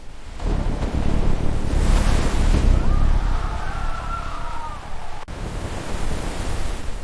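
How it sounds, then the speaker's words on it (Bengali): A storm sound effect of roaring wind and crashing waves that rises to a loud, steady rush, with a brief whistling gust in the middle, then a sudden dip and a slightly lighter rush. "হঠাৎ ভয়ানক ঝড় উঠল"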